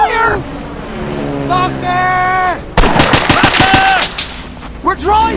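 Rapid bursts of machine-gun fire ring out in a video game battle with tanks, a quick rattling volley mid-clip over shouting voices and tonal, wailing sound effects, loud and close.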